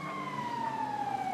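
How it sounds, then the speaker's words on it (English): A police siren wails in GTA 5 FiveM, a single steady, fairly faint tone gliding slowly downward in pitch, heard alone without talk. "I do hear sirens"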